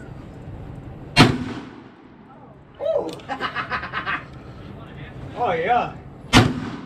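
Two sharp, loud blasts from a black powder six-shooter revolver crack out a few seconds apart, each with a short ringing tail, while people talk and laugh between the shots.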